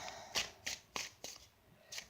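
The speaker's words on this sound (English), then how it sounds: "I'm going to pull a few more cards" Tarot cards are shuffled and pulled in a quiet room, five or six crisp, close riffling snaps with brief pauses between them.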